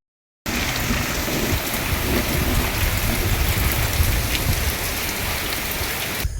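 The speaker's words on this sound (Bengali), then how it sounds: "এত জোরে বৃষ্টি হচ্ছে এখন" Heavy rain pours during a night storm in Bangladesh: a dense, loud, steady roar of rain on surfaces starts abruptly after a brief silence and continues unbroken, close, with no talk.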